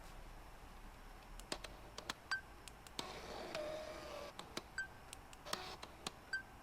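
Autofocus motor of a Hasselblad XCD 80mm f/1.9 lens recorded up close: quiet, repeated sharp clicks and brief electronic beeps, with a short whirring burst of motor movement in the middle, over a very low background.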